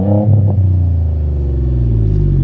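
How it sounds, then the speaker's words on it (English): Ford F-150 EcoBoost V6 fitted with an MBRP 4-inch catback exhaust and resonator, revving up close and loud with a low, deep grumble that settles into a steady rumbling drone. "I got a MBRP 4-inch catback with a resonator. It gives you a pretty low, deep grumble for a V6."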